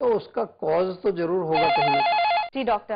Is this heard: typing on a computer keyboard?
no